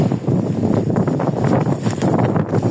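Strong stormy wind blows hard across a rooftop, a continuous loud roaring rush with gusting surges and rustle, buffeting close to the microphone with no voices.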